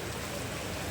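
Heavy rain pours steadily during the August rainy season amid street flooding, a dense, continuous hiss with no gaps or voices.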